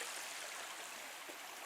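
A shallow, low-running river beside a trail toward Lake Superior in autumn, heard as a steady, even rush of water close by with no voices.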